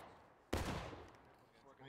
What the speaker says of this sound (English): Keep it hot. Keep firing.